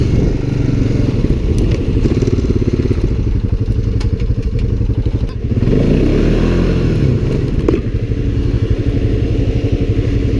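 Honda Pioneer side-by-side stuck in snow, its engine droning loudly and close with repeated surges of revving and a clattery, rumbling strain.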